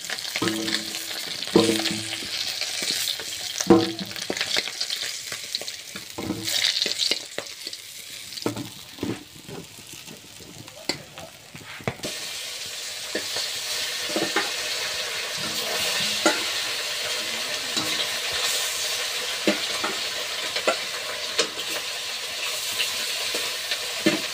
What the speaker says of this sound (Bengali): মাছ ভাজা হয়ে গিয়েছে, এবার তুলে নিচ্ছি এক এক করে।